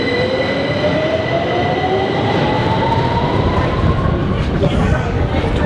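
A London Underground Victoria line train at night rumbles loudly and continuously, with a rising whine from the motors and faint squeal of wheels on the rails.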